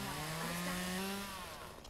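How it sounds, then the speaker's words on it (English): Chainsaw in Lumberjack's Dynasty cutting through bushes, a steady buzzing whine that holds level and then trails off a little toward the end, heard alone with no talk. "Don't run with the chainsaw."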